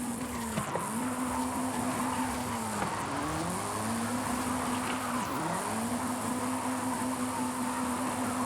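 A JDM car drifting in the Forza Horizon 5 racing game, its tires squealing in long sweeping wails that dip and recover several times over a steady engine drone, with no talking.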